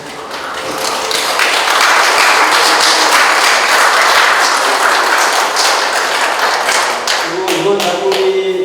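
Sustained applause from an art exhibition audience honouring painter Muse Kim at her encore solo show, loud and steady throughout with a dense patter of many hands.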